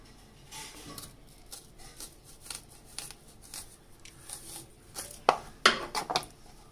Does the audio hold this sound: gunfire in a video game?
no